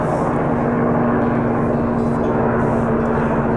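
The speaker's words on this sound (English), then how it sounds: "that is a helicopter heading to the military base that's just over that way" Steady low engine drone of a helicopter flying overhead toward a military base, rotor-like rumble holding constant throughout with no talking.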